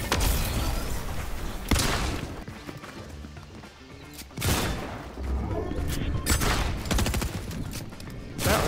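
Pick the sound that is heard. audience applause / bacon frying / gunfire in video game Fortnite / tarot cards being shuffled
gunfire in video game Fortnite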